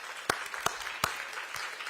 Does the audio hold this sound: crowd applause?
yes